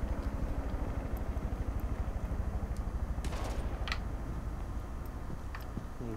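Rapid gunfire in the Rainbow Six Siege video game: a steady, fast stream of close, loud shots rattling for several seconds, then a few scattered sharp cracks as the burst tapers off.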